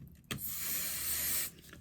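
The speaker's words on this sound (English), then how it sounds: "spray adhesive onto the reverse." A single continuous burst of spray adhesive from an aerosol can hisses onto the back of a piece of fabric, loud and close, lasting just over a second after a short click at the start.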